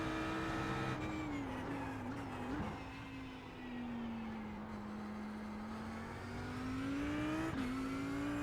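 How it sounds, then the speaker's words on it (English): An LMP prototype race car closes in during a video-game race at Suzuka, its engine a sustained buzzing whine that dips and climbs through gear changes and lifts off, over the drone of other cars on track. "LMP is coming."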